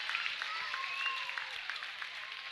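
Crowd applause rises in a high school boys basketball gym, a steady patter of clapping mixed with scattered voices and squeaks, heard at moderate distance.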